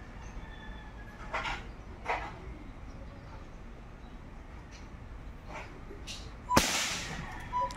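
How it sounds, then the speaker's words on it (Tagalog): A single sharp air gun shot cracks out near the end while zeroing the gun, after a few fainter dull thuds and some background noise. "So ayan, second shot. Lakas ng putok yan"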